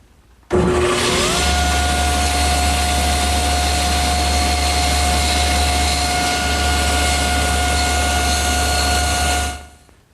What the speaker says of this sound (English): The easiest way to do that is over here at the table saw, where I'm going to hold it against my miter gauge and just spin it slowly into the